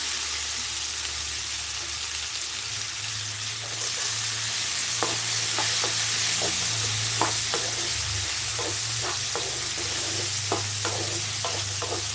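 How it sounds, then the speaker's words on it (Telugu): Cluster beans tossed into a pan of fried onions and green chillies, with steady sizzling and a run of sharp scraping stirs from about four seconds on, close and fairly loud. "దీంట్లో కట్ చేసుకున్న చిక్కి అన్నైతే వేస్తున్నాను"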